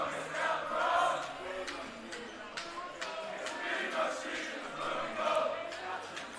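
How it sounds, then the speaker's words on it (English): Crowd noise swells and murmurs in the stands at a high school varsity basketball game between Loyola Blakefield and Calvert Hall, a broad, fairly distant roar with a few sharp squeaks and thuds, under a commentator's voice. "Crowd is staying fired up"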